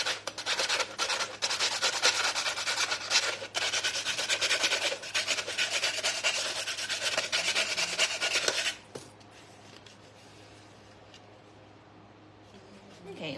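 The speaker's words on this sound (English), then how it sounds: "the inside of this rim is a little sharp, so I'm going to go ahead and" A file rasps steadily back and forth, smoothing the sharp inner rim of a handmade sugar glider toy. The strokes are close and scratchy and last about nine seconds, then stop, leaving a quiet room.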